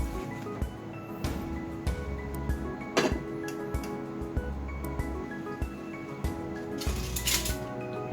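A Japanese rolled egg omelette, tamagoyaki, set onto a plate, with scattered clinks of dishware and utensils, a sharp knock near the middle and light clatter toward the end.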